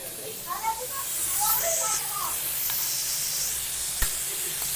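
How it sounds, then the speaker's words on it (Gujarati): A pressure cooker boiling mung beans releases a broad steam hiss, its whistle rushing at moderate level while children's voices chatter in the background. "આ કુકરની સીટી થઈ ગઈ છે"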